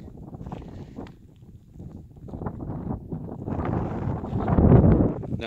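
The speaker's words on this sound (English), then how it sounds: "Hopefully the wind's not too much of a nuisance here on the video." Desert wind north of Barstow at a drywashing dig buffets the microphone in low, rumbling gusts that swell louder toward the end, with no voices.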